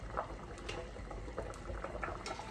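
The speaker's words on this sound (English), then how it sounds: "once this comes to a boil and just cooks a little bit" Water for shrimp pasta bubbles at a rolling boil in a pot, a soft continuous burble with faint popping, close by and fairly quiet.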